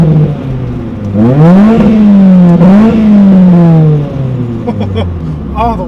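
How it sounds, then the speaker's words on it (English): A 1997 Honda Civic coupe with a five-speed revs hard twice, the engine note climbing and falling in close, loud sweeps, with a whistling intake and a raspy exhaust, then settling back toward idle. "the whistle from the intake and then the exhaust actually sounds pretty sweet."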